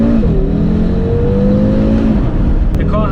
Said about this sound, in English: Let's just floor it here and see what it does anyway.